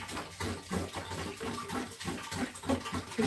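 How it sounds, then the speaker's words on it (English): Water pouring from a bottle into a Lettuce Grow farm stand makes a steady, moderately close gurgling splash that continues for the whole stretch, with irregular bubbling pulses and no talking. "I can hear when the water bottle finishes"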